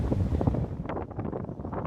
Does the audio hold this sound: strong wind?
yes